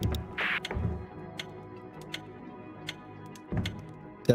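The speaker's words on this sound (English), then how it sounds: "It's the actual clock ticking tick." A traditional-sounding cuckoo clock in the puzzle game We Were Here Together, ticking in sharp, evenly spaced clicks close up, with a few heavier thuds and a brief rustle near the start.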